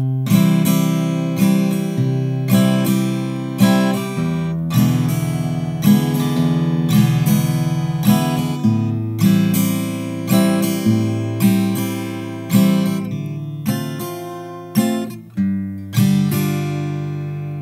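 A guitar plays the chorus of a song on its own and up close: a steady strummed rhythm of plucked bass notes and ringing chords with regular attacks and a few chord changes.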